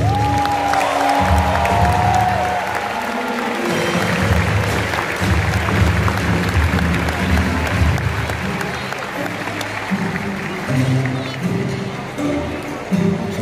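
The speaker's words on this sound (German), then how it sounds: "Gebt ihnen Kraft, Kaltenberger, mit eurem Applaus!" Crowd applauding at the Kaltenberg knights' tournament in Germany, a sustained wash of clapping and cheering from a large outdoor audience, with low rumbling and possible hoof sounds beneath and a brief whistle-like tone early on.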